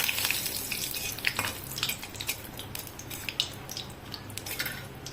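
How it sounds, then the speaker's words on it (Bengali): Dry red chilli, bay leaf and ground garam masala temper in hot oil in a kadai. The oil gives a steady, fine crackling sizzle with sharp spits and pops throughout, moderately loud and with no talking. "গুঁড়ো গরম মশলা শুকনো লঙ্কা তেজপাতা ফোড়ন দিলাম"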